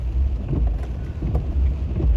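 Steady rain drums and hisses around a moving vehicle while driving, a continuous dense patter with low road rumble underneath and no voices.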